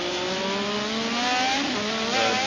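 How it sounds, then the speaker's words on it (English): A 1985 Formula One turbo race car at the Australian Grand Prix climbs through the gears, its high engine note rising and dropping in steps as each shift lands, loud and close. "First gear he was down to, up through the gearbox."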